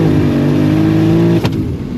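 A 1,500 bhp BMW M3 Touring engine screams close and loud at high revs under hard acceleration, then cuts off sharply with a brief burst before the sound drops away.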